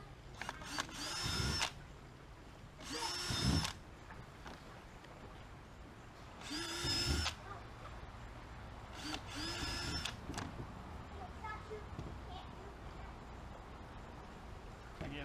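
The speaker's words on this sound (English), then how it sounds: "Now for the rivets we're going to use a 3/8 inch drill bit." A power drill fitted with a 3/8 inch bit bores rivet holes in a kayak hull, running in four or five short whining bursts separated by pauses, close and fairly loud.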